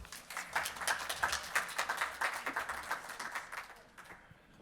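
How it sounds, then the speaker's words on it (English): An audience at the 2019 Innovation Showcase gives a round of applause, heard as fairly faint, rapid, scattered clapping that swells briefly and then thins out toward the end. "Give him a big round of applause."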